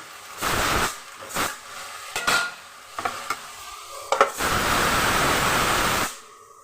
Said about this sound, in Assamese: ইয়াতে লাও ভাজিব দিছোঁ।